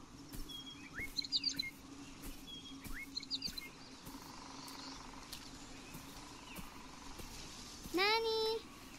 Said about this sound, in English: We hear the bird.